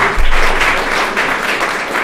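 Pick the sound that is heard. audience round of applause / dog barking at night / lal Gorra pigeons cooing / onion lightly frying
audience round of applause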